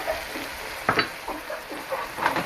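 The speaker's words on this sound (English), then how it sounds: "Give it a little stir." Scallops sizzle in a hot pan with spices as they are stirred, a steady crackling fry broken by a few soft scraping and clinking stirs, close and fairly quiet.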